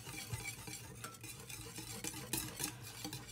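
Whisk stirring mango float ingredients in a bowl, a steady scraping swish with faint clinks against the bowl, close and continuous, with music playing underneath.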